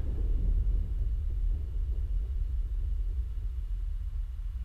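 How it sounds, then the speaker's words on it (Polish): Distant thunder rumbling during a storm in the FlightGear 2020 flight simulator game, a low, sustained roll that fades slowly across the whole stretch with no talking. "nawet dźwięk jest fajnie oddany tych piorunów"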